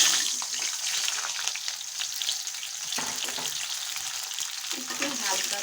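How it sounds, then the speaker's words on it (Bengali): Pointed gourd (potol) fries in hot oil in a heated kadai, giving a dense, continuous close-up sizzle and crackle with occasional stirring scrapes. "এখন আমি পটলগুলো একটু ভেজে তুলব"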